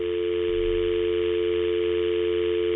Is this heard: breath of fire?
no